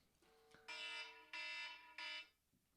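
A kitchen timer alarm goes off in three loud shrill electronic beeps in a steady rhythm, close and harsh over a faint room background with a brief click before, no speech.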